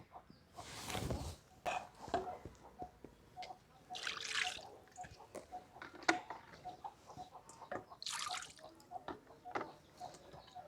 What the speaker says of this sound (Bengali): দেখুন এই জলটাকে ফেলে দিচ্ছি ফেলে দিয়ে আমি আবার একটু জল দেব